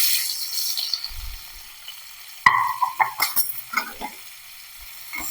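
Sliced onions hit hot oil in a pan for egg curry, and a soft sizzle gives way to a sudden loud crackle followed by scraping spoon strokes and clinks as they are stirred, close and with no voices.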